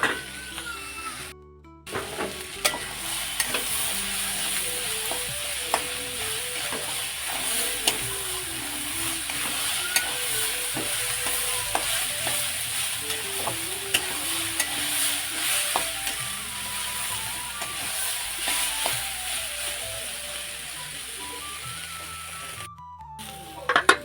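Green chili, ginger-garlic paste and cumin-coriander paste fry for ghugni in a pan, a steady close sizzle under repeated scraping stirs of a spatula, with no voices.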